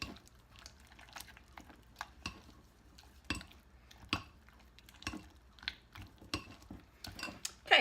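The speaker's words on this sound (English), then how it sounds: "we're going to mix that in with the apples. So let me just get that in there. And just stir that in together." A spoon works a mixture into apples in a bowl for caramel apple cheesecake jars, giving faint, scattered clinks and soft scrapes against the bowl at an uneven pace, with no talking.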